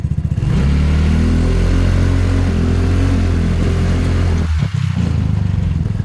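A Yoki Kart 200 teen buggy pulls away with a steady, loud engine drone close by, rising slightly as it drives off, with a brief dip near the end.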